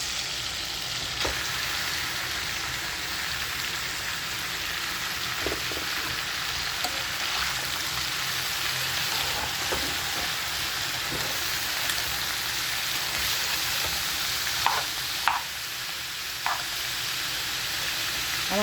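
Cabbage with potato, tomato and tempering spices sizzles steadily in hot oil in a pan, a continuous close crackling hiss with occasional sharper pops and stirring clicks throughout.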